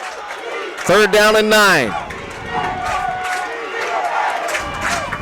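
Women's American football playoff crowd noise rising in the fourth quarter, a swelling roar urging the defense on, with a loud whistle-like cry and an announcer talking over the cheering.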